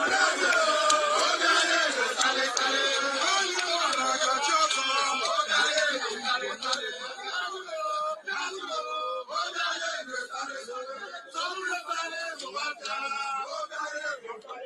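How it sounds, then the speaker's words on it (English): A large crowd cheers and chants in celebration outdoors, a dense, sustained roar of many voices with shouts and wails rising and falling throughout. "See the crowd of the people that came out, to welcome and celebrate."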